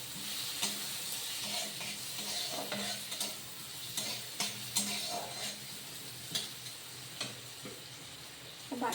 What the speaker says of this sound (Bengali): হালকা ভাজা হয়ে গেলে এবার আদা কুচিটা দিয়ে দিলাম